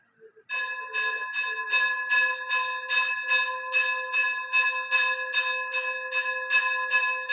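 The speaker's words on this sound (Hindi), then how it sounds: "दोबारा बोलूंगा मैं, घंटी की आवाज चली जाए।" A bell rings in rapid, evenly spaced strikes, a bright metallic clang repeating steadily and fairly loud, close by, with no talking over it.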